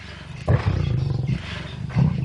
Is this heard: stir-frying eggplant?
no